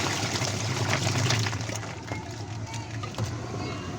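Water pouring and trickling into a Whirlpool semi-automatic washing machine with a wash-side sound problem, a steady splashing rush that eases off midway, while people talk over it nearby.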